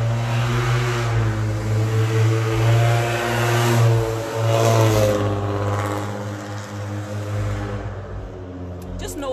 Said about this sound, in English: this vehicle is loud